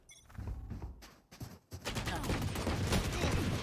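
Gunfire from a Valorant esports match, coming as a burst of rapid shots that builds into a dense, continuous clatter of weapons over a short stretch, with no voices.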